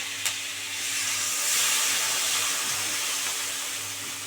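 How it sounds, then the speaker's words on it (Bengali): Water poured into a hot pan of potatoes for a fish curry sends up a loud steaming hiss that swells and holds steady, a close sizzling rush with no talk. "এবার অল্প করে জল দিয়ে দিচ্ছি"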